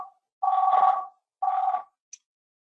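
A call rings through to an agent on a Mitel Enterprise Contact Center system, sounding as two clean, evenly spaced electronic ring bursts followed by a brief high beep, with no talking.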